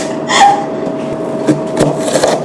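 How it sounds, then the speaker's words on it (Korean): Sparse knife chops land on a cutting board in a home kitchen, a few distinct wooden taps spaced apart over a faint steady hum. "그래도 칼질하면서 손 다친 적은 없다."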